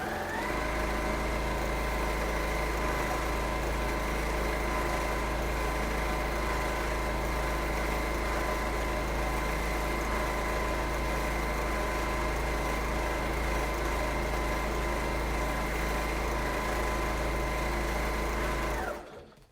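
A sewing machine runs steadily and loudly for free machine embroidery, a constant even whir with no pauses until it stops abruptly at the end.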